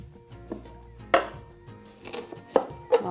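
Knife chopping red onion and garlic on a cutting board, a few separate sharp cuts spaced irregularly with quiet pauses between them, close and fairly clear with no talking.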